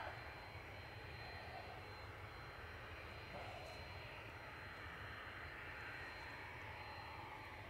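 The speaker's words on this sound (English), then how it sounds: "This is Turkish landing from Istanbul, flight 1993, TCJSE Airbus A321-200." Turkish Airlines Airbus A321-200 jet landing at Manchester Airport after a flight from Istanbul, a faint, distant, steady engine roar with broadband rushing noise and a thin high whine, holding evenly throughout.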